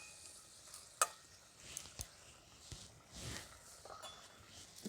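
Spoon stirring a tilapia fish curry after a splash of raw mustard oil, with soft scraping, a few sharp clinks against the pot, and a faint background sizzle, close and fairly quiet.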